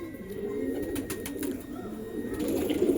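A female pigeon coos repeatedly beside her cage, a steady run of low, rolling calls heard up close with constant background noise.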